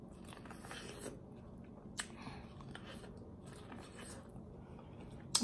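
Corn on the cob being bitten and chewed at a mukbang meal, faint close crunching and moist mouth sounds, with one sharper bite partway through, over a soft background hiss and no speech.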